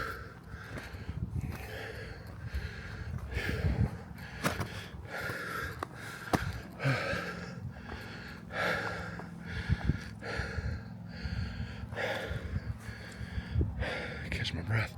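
Heavy rhythmic breathing follows a scramble up rocks on a hike at Pinnacles Youth Park in Columbia, Missouri, close and steady with repeated gasping inhales and exhales, wind buffeting in the background.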